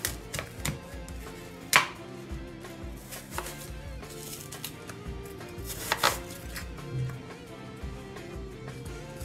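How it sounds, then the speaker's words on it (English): Apples being diced with a knife on a board give a string of irregular taps and knocks, some sharper than others, close and moderately quiet over soft background music. "So now I just want to cut my apples in dices."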